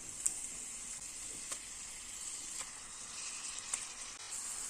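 Chicken pieces hit a hot pan of sizzling spices for a chicken kurma, giving a steady close frying hiss with a few soft clicks and stirring ticks, no voices.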